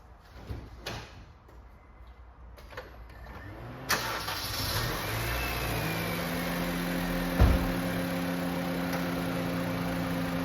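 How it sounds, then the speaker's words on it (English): A car door thuds and a Honda Civic engine with a failing head gasket cranks, catches and settles into a steady idle, close by, with a brief clunk partway through. "let's just go and start up the car and I'll show you"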